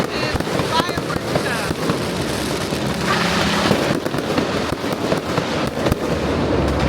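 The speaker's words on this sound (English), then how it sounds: "it was not such an expensive fireworks" Fireworks and firecrackers set off in the streets of Penang, Malaysia, during Chinese New Year pop and crackle continuously in a dense, fizzing barrage, with people talking over the din.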